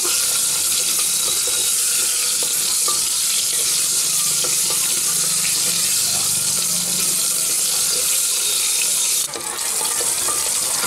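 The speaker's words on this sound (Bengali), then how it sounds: "আলুগুলোকে একটু ভেজে নিচ্ছি।" Potato pieces frying in hot oil with whole cumin and dried red chili, a steady dense sizzle with stirring scrapes throughout, loud and close, no voices.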